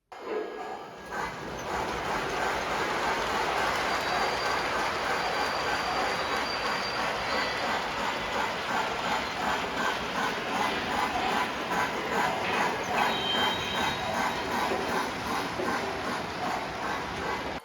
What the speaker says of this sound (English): That was a lot of cars for that engine to pull.